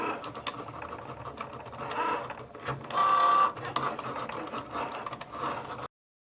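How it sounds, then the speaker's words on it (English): Electronic cutting machine slicing card material, a steady whirring, clicking motor with brief louder surges, close and alone until it stops abruptly. "the machine calibrated itself and loaded the material into the machine"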